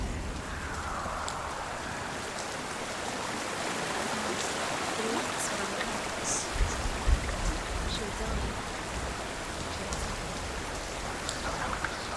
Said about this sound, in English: Okay, so I need to go through the waterfall